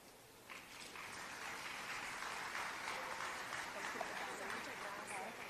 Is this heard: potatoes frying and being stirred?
no